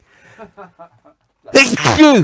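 A loud, close sneeze bursts out after a few soft syllables of speech, followed by a drawn-out voiced tail as the person recovers.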